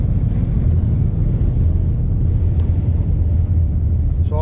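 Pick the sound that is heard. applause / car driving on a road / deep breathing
car driving on a road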